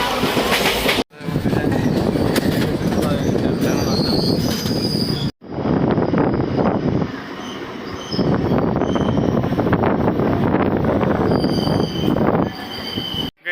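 Mayurakshi Express passenger train running between Dumka and Howrah, heard from inside a general ICF coach: loud continuous wheel squeal and rumbling rail noise, with a brief break partway through.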